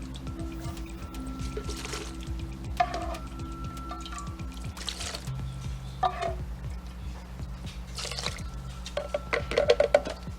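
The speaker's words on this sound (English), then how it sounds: "Let's get some of this broth in here." Broth is ladled into a pan of peas, mint and onions, soft intermittent splashing and trickling pours with small squishy stirs over a low background hum.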